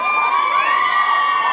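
A dense crowd screams and cheers continuously at a live soca performance at Maracas, a loud, sustained wash of high-pitched shrieks and whoops with no break.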